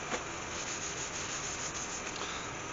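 An oak urn on a lathe is sanded with sanding sealer, giving a continuous, close, steady rubbing hiss that lasts throughout with no pauses.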